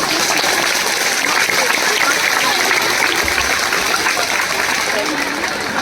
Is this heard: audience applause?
yes